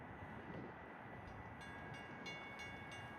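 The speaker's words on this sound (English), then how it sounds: "Milwaukee North train number 2152 to Chicago Union Station is now arriving." A Metra Milwaukee North commuter train arrives at Lake Cook Road during a blizzard, a steady broad rumble with faint repeating clicks and a thin tonal whine rising toward the end, heard alone without voices.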